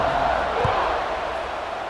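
A stadium crowd in the College Football 26 video game roars and cheers before a kickoff, a loud, dense, continuous wash of noise from a large audience.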